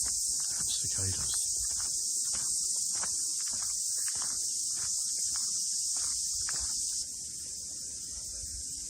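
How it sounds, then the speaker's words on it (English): A loud, constant high-pitched cicada drone fills the air in a New Zealand rainforest along the Paparoa Track, with a dip in intensity near the end and faint rustles beneath. "cicadas."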